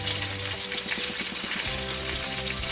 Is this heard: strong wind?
no